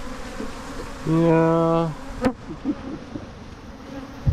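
Honey bees buzz loudly at a hive after a swarm has landed, a close, steady drone of about a second that stops abruptly, then fainter scattered buzzing and a sharp tap follow.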